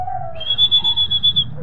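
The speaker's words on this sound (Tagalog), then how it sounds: "Ayun na mga kalapatids si Chocolate, second bird." Homing pigeons back at their loft give a short run of low, pulsing coos, close by, with a thin high whistle-like tone over part of it.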